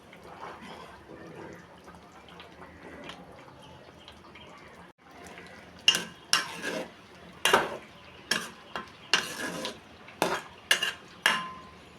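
Pumpkin curry is stirred and fried in a pot. A soft sizzle runs under it, then a metal spoon scrapes and clanks against the pot in about a dozen sharp, close, rhythmic strokes.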